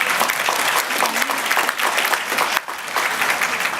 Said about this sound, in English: So, thank you for clapping.